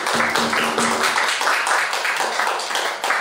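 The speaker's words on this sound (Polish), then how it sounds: "Wielkie brawa dla nich." Audience clapping for three young folk singers, pupils of a traditional harvest-song vocalist, at an outdoor village concert in Laski, with dense steady applause throughout and a faint sustained musical tone underneath at the start.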